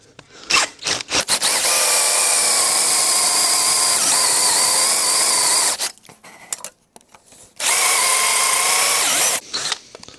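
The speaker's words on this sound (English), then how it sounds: "this one's going to be a drill out job." A power drill whines loudly in two long sustained runs, drilling out a bolt on a Honda CT90 Trail 90 motorcycle, separated by short pauses and scraping, close up.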